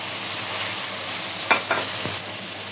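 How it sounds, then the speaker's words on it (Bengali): Fried river fish goes into a pan of sizzling spiced masala, a steady close frying hiss with a couple of brief stirring scrapes and clatters midway, and no one speaking. "এই যে আমার মশলাটা ভালোভাবে কষানো হয়ে গেছে, মাছ দিয়ে দেব।"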